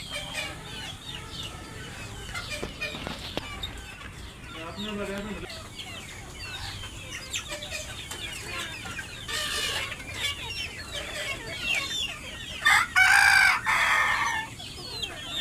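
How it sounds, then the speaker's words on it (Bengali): Poultry on a farm cluck busily and a rooster crows nearby, the birds eager to be let out, while a person talks intermittently over the flock. "বার হওয়ার জন্য একদম পাগল হয়ে গেছে মুরগি সব।"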